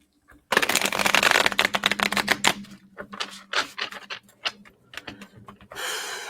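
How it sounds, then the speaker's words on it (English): Tarot cards are shuffled in quick riffling bursts, a dense flurry followed by a series of sharp slaps and flicks, close and fairly loud. "We're going to do one more shuffle here."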